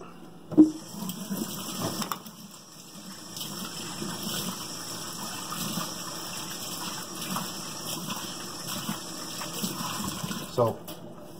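Tap water runs steadily into a home kitchen sink while something is rinsed. It makes a continuous soft hiss, with a few clunks at the start and end.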